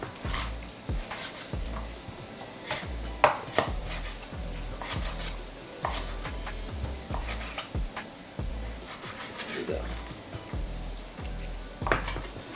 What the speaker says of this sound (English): Now we just want to cut our lobster up. So we're gonna cut it down the middle.